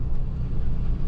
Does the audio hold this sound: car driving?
yes